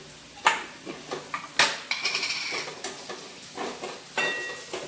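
Food fries quietly in a home kitchen pan while a spoon stirs it quickly, giving sharp scraping clacks in an uneven rhythm over a soft, steady sizzle.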